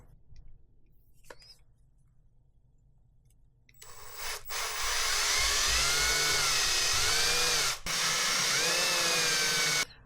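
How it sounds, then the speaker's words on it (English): A Forstner bit in a drill bores into a small handmade fishing glide bait: a few quiet taps, then a loud, steady whirring drill run of several seconds with a short break before it resumes. "And then I've got my Forstner bit. Drill that dude out and sink him in there."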